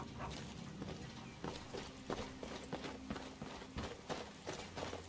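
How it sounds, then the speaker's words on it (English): An armored horse in a rainy game world walks with clip-clop hoof beats: a loose, even run of hard knocks, moderately close, over a steady wash of rain. "That is an armored horse."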